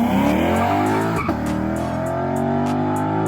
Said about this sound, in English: This is when Lexus first started their F line of cars, and it sounds like no other.